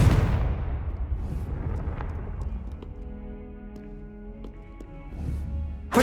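A Confringo blasting spell explodes in Hogwarts Legacy with a loud, broad rumbling burst up front, decaying into a long noisy tail with scattered debris ticks and faint tonal ringing, alone without talk.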